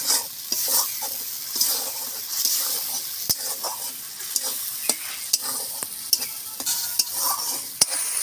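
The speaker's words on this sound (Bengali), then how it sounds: "মশলাটা আমি ভালো করে কষে নিয়েছি দেখুন তেল ছেড়ে যাচ্ছে মশলা থেকে" Ground spice paste for katla fish kalia being stir-fried in oil, a bright continuous sizzle with frequent sharp scrapes and knocks of a spatula against the pan, close up and without any voices.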